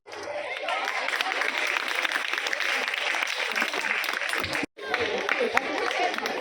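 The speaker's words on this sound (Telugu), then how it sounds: "కంటిన్యూస్గా క్లాప్స్ ఇవ్వండి అమ్మా" Schoolgirls at a Sankranti event in a girls' high school clap continuously for a third-place result, a sustained wash of crowd applause that cuts out for an instant before resuming.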